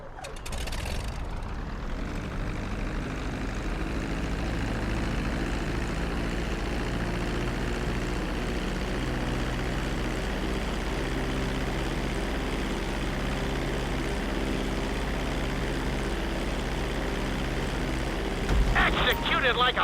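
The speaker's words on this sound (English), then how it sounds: "Start to decelerate while you're still in the air, but be careful not to stall the engines." Airplane engines drone steadily as a plane comes in to land in the video game Grand Theft Auto 5, a continuous loud hum with a brief rising whoosh at the start and a shift near the end.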